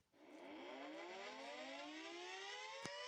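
A turquoise siren from a Siren Head video game winds up quickly into a long, steady, rising wail with layered tones, heard alone and fairly clear, with a brief click near the end.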